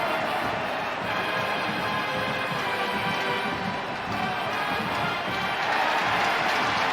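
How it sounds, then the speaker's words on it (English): A stadium crowd at a college football game between Boston College and Clemson murmurs and stirs after a contested play, a steady broad roar with rising and falling swells, fairly loud and continuous. "you hear the crowd reacting"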